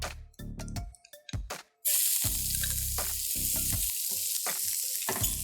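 Onions frying in a pan give off a loud, steady hiss that swells up suddenly after a few brief bursts, with occasional stirring clicks over the continuous sizzle.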